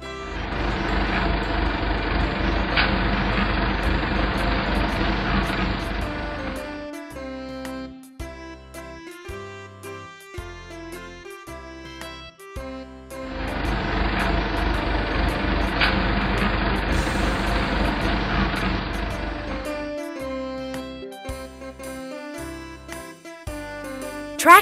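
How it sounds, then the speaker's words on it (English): A field chopper's engine runs in two long, loud, steady bursts of heavy machine roar, each fading out and followed by a tinkling jingle. "Field chopper."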